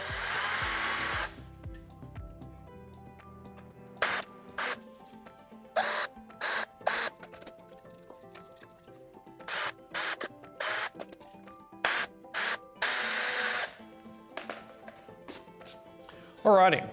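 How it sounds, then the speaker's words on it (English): A cordless drill with a 3 mm bit boring pilot holes along aft stringers for an F/A-18 side console build, heard as repeated short, loud whirring bursts separated by pauses, close and alone. "we're gonna come in with the 3mm drill bit and pilot hole the entire length"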